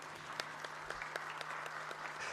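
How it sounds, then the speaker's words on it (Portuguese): Audience applause in a Curitiba city council chamber, a steady patter of many hands clapping with a faint hum underneath, fairly distant and continuous throughout. "Uma salva de palmas."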